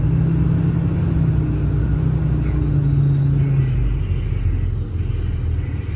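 A 2019 International MV106 extended-cab truck with a Cummins diesel and 160k miles turns slowly at the pavement's edge, its engine a steady low rumble heard from the cab, loud and even throughout.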